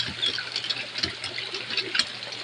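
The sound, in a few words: strong flow of water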